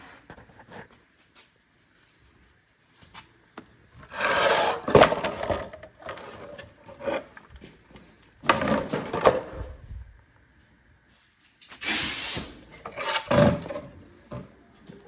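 A pneumatic scraper stripping old material from the floor pan of a Datsun 280Z works in three loud, harsh rasping bursts of a few seconds each, separated by quiet pauses.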